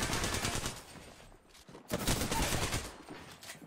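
Rapid bursts of gunfire from an Apex Legends match, dense automatic fire with a short lull before another loud volley, heard without talk.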